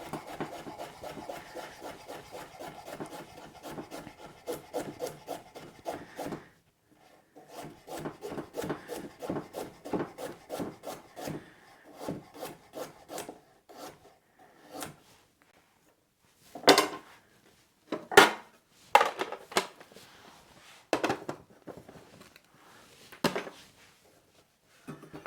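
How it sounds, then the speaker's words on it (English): A knife slices a carrot finely at an angle on a cutting board, with rapid runs of quiet rhythmic chopping taps, a pause, then sparser, sharper cuts and board knocks, close and alone. "I'll just cut that fine for the stir fry. Cut that at an angle."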